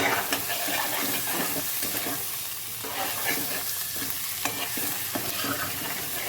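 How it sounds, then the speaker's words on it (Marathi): Egg curry masala sautéing in a pan, a dense continuous sizzle broken by scraping stirs and occasional spits, close and fairly loud. "तर आता ह्याला मी 2 मिनटं परतू देणार मस्त"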